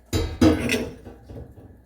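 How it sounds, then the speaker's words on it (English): Stock is poured into a pan of curried carrots, giving a short burst of splashing and sizzling that quickly fades to a soft simmer, heard alone and close. "And then in with the stock. Ooh, that's a nice sound."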